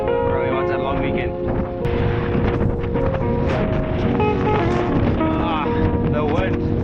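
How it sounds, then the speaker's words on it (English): Strong wind roaring past the microphone while cycling outdoors, a steady, loud buffeting rush lasting the whole clip with no breaks. "The wind."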